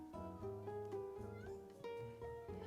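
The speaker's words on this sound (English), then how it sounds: "my cat hears me talking, so she thinks it is time to play" Pet cat meowing indoors, a series of short, quiet, tonal meows in quick succession, close by.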